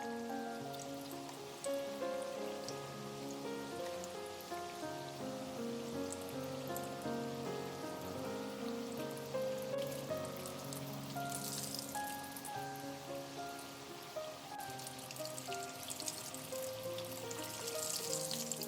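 Potato-coated hot dogs deep frying in hot oil give a continuous, even sizzle and crackle that runs steadily throughout at a fairly soft level, with no talk.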